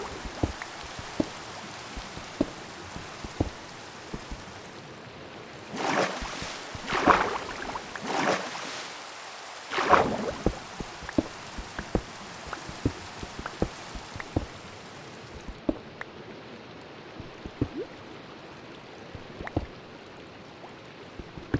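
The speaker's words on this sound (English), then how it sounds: "The rain going in the background." Steady patter of rain in Minecraft, a soft continuous hiss dotted with faint droplet ticks, swelling briefly midway, with no voices over it.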